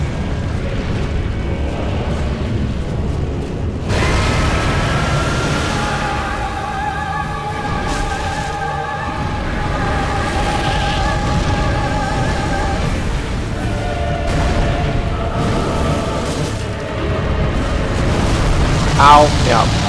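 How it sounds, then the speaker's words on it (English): An explosion in the video game Dark Souls 3 The Ringed City: a deep, sustained rumbling boom with roaring noise that fills the whole stretch, heard beneath steady tonal game music while someone talks over it. "So that's gonna explode, right? They always explode."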